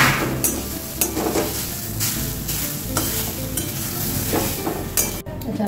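Raisins frying in a pan while making carrot halwa, a steady sizzle with repeated stirring scrapes and light clinks of the utensil against the pan, close and moderately loud, with no voices.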